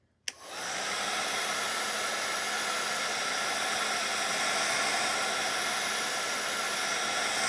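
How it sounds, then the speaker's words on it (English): A heat gun blows over wet paint on a floral painting, switching on with a click and then running as a steady, loud, even whooshing hiss of hot air, with no talk. "this is a heat gun"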